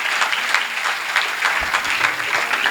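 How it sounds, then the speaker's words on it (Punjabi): An audience at a youth poetry gathering during a Punjabi University literature festival breaks into warm, steady applause, dense clapping filling the room for a few seconds. "ਜ਼ੋਰਦਾਰ ਤਾੜੀਆਂ"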